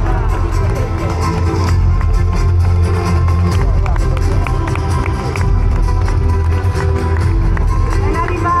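Audience applause welcoming Italy's tourism minister Massimo Garavaglia onto a stage at an event, a dense, loud, continuous roll of clapping with crowd murmur, sustained for several seconds.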